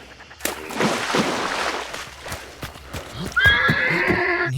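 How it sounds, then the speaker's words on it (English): A horse in the video game Hunt: Showdown whinnies in a clear, fairly loud call near the end, after a stretch of rustling, clopping hoof-like steps and ambient movement. "horses sometimes make sounds when they're pretty far away, even though nobody's alerted them"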